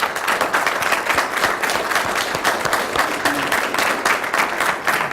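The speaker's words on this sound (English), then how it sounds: "we give them a round of applause" Audience applause at a township council meeting, steady dense clapping from a seated crowd that holds evenly for about five seconds, moderately loud with no talk over it.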